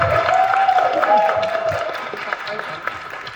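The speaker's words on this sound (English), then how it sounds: "Let's give them a round of applause." Audience claps for panelists at a Women's History Month event, a dense burst of applause with some cheering, under a voice and slowly tapering toward the end.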